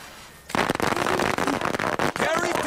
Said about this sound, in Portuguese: Fogos de artifício,